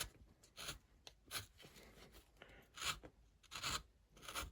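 A chisel carves into cottonwood bark in a series of short, quiet rasping scrapes, each cut a brief burst with small pauses between, close by and soft.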